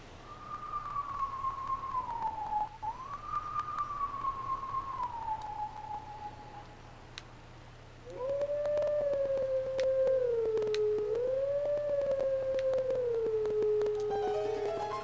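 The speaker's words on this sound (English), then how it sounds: "Gotta do the Howling Wolf again." A wolf howls in Twilight Princess HD, a long clear wavering tone that slides down, breaks briefly, then returns lower and sustained with a faint steady hum underneath.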